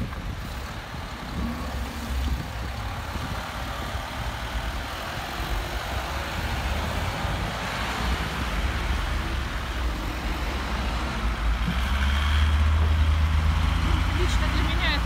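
Steady traffic roar of cars and trucks along a highway, a continuous broadband rumble with low engine drone that swells louder toward the end, with a person's voice over it.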